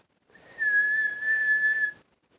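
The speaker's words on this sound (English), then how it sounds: "He blew his whistle again." A whistle is blown in one long, steady, shrill blast of about a second and a half, loud and close, with no other sound around it.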